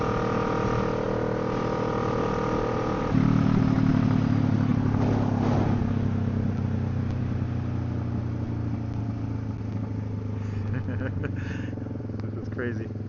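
A Kawasaki Ninja 650 motorcycle decelerates on engine braking during a ride after a throttle position sensor fix, a steady engine drone with wind rush dropping in pitch, close and continuous, with a rider talking over it.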